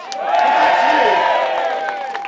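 An audience at a talk breaks into cheering and applause, the sound swelling quickly and then holding as a full, close burst of claps and whoops for a couple of seconds.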